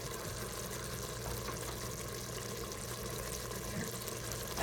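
Water poured into an Instant Pot with beef broth for taco pasta, a steady close trickle and splash running throughout with no talk.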